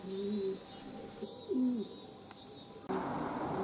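Racing pigeons around their loft give a few soft, low coos, fairly close, over a faint steady outdoor background with no talk.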